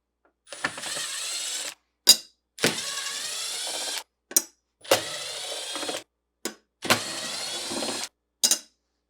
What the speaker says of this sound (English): Start by removing the screws holding the end caps in place using a 1/4-inch nut driver.